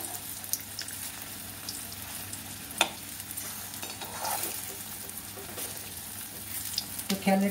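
Jackfruit koftas deep-frying in hot oil make a continuous, even bubbling sizzle close by, with a sharp clink near the middle and a few louder pops toward the end.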